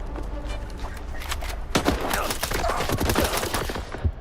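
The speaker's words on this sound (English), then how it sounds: "So we are now shooting at everybody" Gunfire in STALKER 2: rapid bursts of automatic shots crack out in clusters, growing denser and louder after a quieter stretch, with a voice briefly talking over the shooting.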